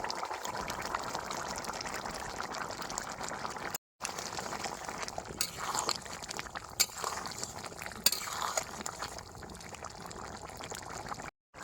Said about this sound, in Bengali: এবার বাইজে রাখা চিংড়ি মাছটা দিয়ে দেবো